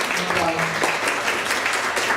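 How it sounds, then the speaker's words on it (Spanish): An audience claps together in a lecture hall during a talk on accelerated learning, a brief dense burst of applause heard close and steady throughout. "Bien, un aplauso."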